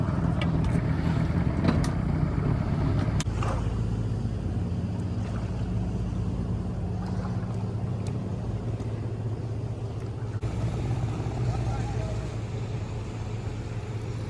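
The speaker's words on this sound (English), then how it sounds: "another one of those cargo ships is coming by" A low, steady rumble of a passing cargo ship's engine carries across open water near jetties, heard from a small skiff, with wind buffeting the microphone and occasional knocks nearby.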